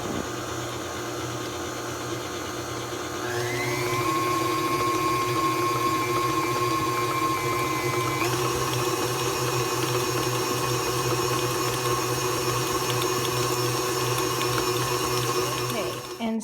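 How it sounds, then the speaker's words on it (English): A stand mixer with a dough hook kneads kolache dough in a steady, continuous motor whir, running slowly at first and then stepping up in speed and pitch, with no talking. "we're going to let it knead, but you let it mix slowly at first so you don't end up with flour all over your kitchen"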